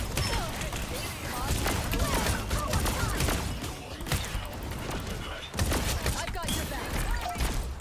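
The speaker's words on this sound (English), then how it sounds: "That sound effect is super satisfying though, when it explodes." Explosions and gunfire bursts from the Marvel Rivals video game, a dense, loud, continuous clatter of blasts and impacts with a voice talking over it.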